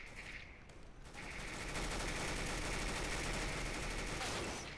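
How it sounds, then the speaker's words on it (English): Dense, sustained gunfire from a Counter-Strike GO match, rapid overlapping shots that build after the first second into a loud, continuous barrage. "How do you dodge all those shots and not get hit?"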